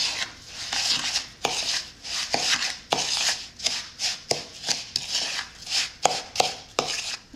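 Sugar being mixed in a bowl for a cheesecake, a series of scraping, rasping strokes in an uneven rhythm, close and clear, with no talking.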